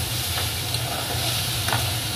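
Vegetables sizzle and fry steadily in a pan for a radish and lentil-dumpling dish, with a constant hiss and a couple of faint stirring scrapes, close and fairly loud.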